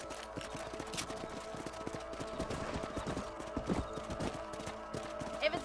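Horse hooves galloping in the Western video game Red Dead Redemption, a steady rapid clip-clop rhythm running throughout alongside game ambience.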